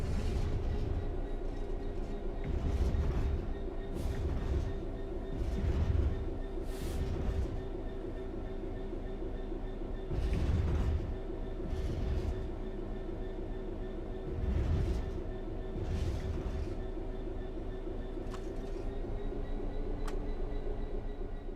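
Train coasting on level ground in a train simulator game, a steady rolling rumble and hum with rhythmic wheel thumps at intervals, alone without talk.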